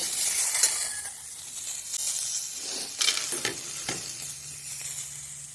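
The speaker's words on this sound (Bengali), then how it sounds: "তো বড়িগুলো মোটামুটি প্রায় হয়ে গেছে, আমার ভাজা হয়ে গেছে বড়ি" Bori lentil dumplings frying in a pan and being stirred, a continuous sizzle broken by scraping strokes and a few louder clatters of the spoon against the pan, close and with no voices.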